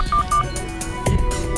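A telephone keypad is dialed to call the police, with a couple of short, bright beep tones followed by a few softer button clicks, close and brief.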